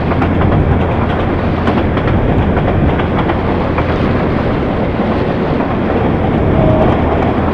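A fast express train speeds by at night in Narsingdi, Bangladesh, heard as a loud, continuous, close rushing roar with faint wheel clatter and some wind buffeting.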